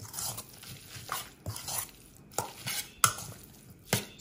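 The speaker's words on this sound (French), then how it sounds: "On mélange bien" Fish stuffing being mixed in a bowl for a Moroccan sea bream dish, with a series of sharp utensil clinks and scrapes against the bowl at irregular intervals over soft wet churning, close up and without talk.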